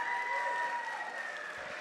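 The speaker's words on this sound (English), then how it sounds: "Give this group a round of applause." Audience applause at a school sports awards ceremony honoring scholar athletes, a steady wash of clapping held for under two seconds with no one speaking over it.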